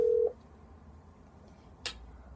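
A phone dials to call Domino's: one steady dial tone at the start cuts off, followed by a short faint click later, with no talk.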